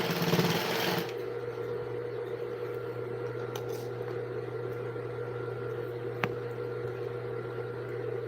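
A sewing machine runs steadily while stitching fabric, a continuous close mechanical whir and hum after a brief louder burst at the start, with a single small click partway through.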